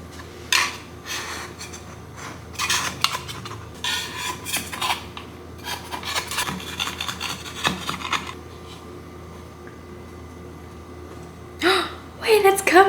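Metal knife scraping and tapping against a plate while a matcha cake is cut and plated, with intermittent clinks and rubbing bursts, close by, with a person speaking over parts of it.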